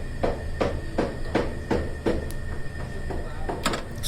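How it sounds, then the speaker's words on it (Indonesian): A special stitching machine sews the bottom of an American-style boot after the sole is nailed on, giving a close, steady series of sharp mechanical knocks about every third of a second over a low machine hum. "Jadi dijahit lagi di bagian bawah itu setelah solnya terpasang, setelah dipaku kemudian dijahit lagi."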